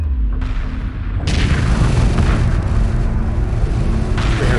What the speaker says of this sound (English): The mothership is taking light enemy fire.